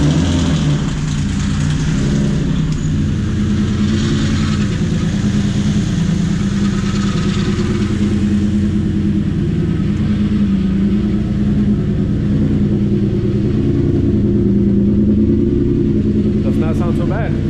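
A turbocharged VQ35 V6 engine in a Nissan S13, misfiring, idling steadily and loudly nearby, a deep continuous rumble throughout, with some voices faintly mixed in.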